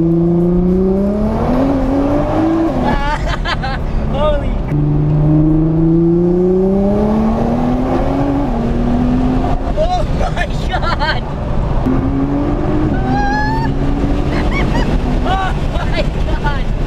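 A 1000 HP Nissan GT-R accelerates hard, its engine note climbing repeatedly through the gears under heavy wind buffeting, with voices talking over it.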